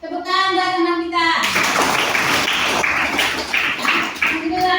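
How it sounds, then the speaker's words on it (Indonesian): Schoolchildren in a classroom break into clapping for a classmate after a teacher's short spoken line, a busy burst of hand claps mixed with children's chatter that carries on to the end. "Tepuk tangan buat teman kita."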